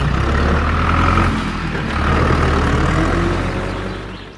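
A heavy gas company truck engine rumbles loudly nearby in a cartoon forest, its low drone swelling and easing as it rolls in, with no voices.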